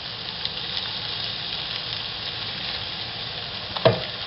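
Onions with oregano and red pepper sizzle steadily in a hot pan, a continuous close frying hiss with soft scraping as they are stirred, ending in a sharper clack near the end.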